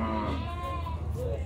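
A Nelore calf at a cattle market in Canafístula, Alagoas, gives a short, close, sustained bawl over the low murmur of the crowded livestock fair.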